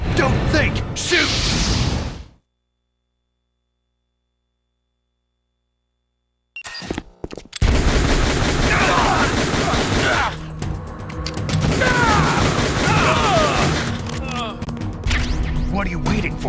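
Loud, dense gunfire and explosive bursts fill the scene in the video game Metal Gear Solid The Twin Snakes, starting after a brief stretch of silence and running almost continuously, with voices mixed in.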